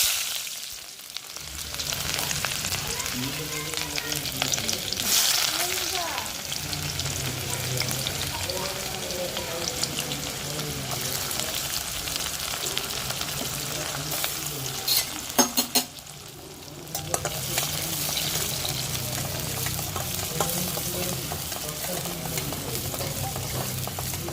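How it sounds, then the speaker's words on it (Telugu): Onion, green chilli and tomato frying together in hot oil in a pan, giving a steady, loud broadband sizzle with occasional stirring scrapes throughout, briefly quieter midway, with no talking. "ఉల్లిపాయ పచ్చిమిర్చి టమాటా మొత్తం అయితే ఒకసారి వేసేసుకొని ఫ్రై చేసేసుకోవాలి"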